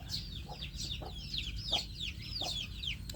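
Muscovy ducks calling on a Thai duck farm, a run of rapid, thin, high-pitched chirps and squeaks repeating over a low steady background rumble, with no voices.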